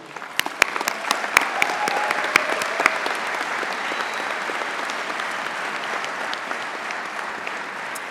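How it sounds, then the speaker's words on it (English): A university graduation audience in a ceremony hall claps, with a few sharp individual claps first, then a sustained, even round of applause from a large crowd. "Please join me in a round of applause for Beverly O'Connor, our esteemed name reader"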